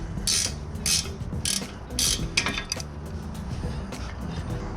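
A ratchet loosens the strut nuts on a 2019 Ford Ranger, giving a few quick bursts of close, sharp clicking followed by lighter, sparser clicks.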